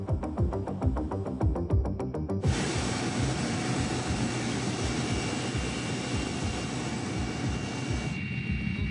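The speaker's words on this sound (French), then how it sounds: "À quelques minutes, 2 hélicoptères attendent Arnaud et sa colonne" Two helicopters wait for a GIGN tactical unit near Dijon, their rotors a loud sustained roar with rhythmic blade chopping at first, then a dense steady engine and rotor wash.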